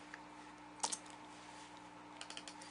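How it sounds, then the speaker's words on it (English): Quiet taps on a computer keyboard while a web page is edited, a few soft clicks early on, then a short cluster of keystrokes near the end over a faint electrical hum. "I'm going to double click to open it up and type in page 2."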